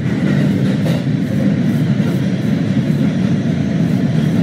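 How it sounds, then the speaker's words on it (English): A train rushes through a Minecraft recreation of New York's 77th Street subway station, making a loud, steady rumbling roar that holds unbroken for several seconds with no voices. "he just got run over by a train"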